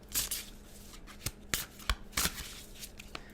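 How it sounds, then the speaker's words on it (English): A deck of tarot cards handled and shuffled nearby, with crisp irregular riffling snaps and rustles against a quiet background. "I feel like these are shuffled enough."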